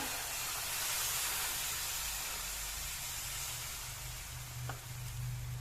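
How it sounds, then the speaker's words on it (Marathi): A cup of milk is poured into a roasted mixture in a hot pan, and a broad, steady sizzling hiss of steam and frying fills the scene, fairly quiet and continuous with no voices. "इथे मी एक कप दूध घेतलेलं आहे ते मी यामध्ये घालते"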